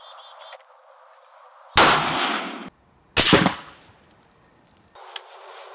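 A single loud rifle shot from a scoped hunting rifle being sighted in at a target range, a sharp close blast with a brief ringing decay, followed by a second impact-like crack and quiet surroundings.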